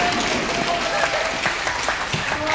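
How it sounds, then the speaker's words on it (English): Students at a school Teachers' Day event applaud steadily, a dense wash of many hands clapping throughout, with voices and cheers mixed into the crowd noise. "Big round of applause, please."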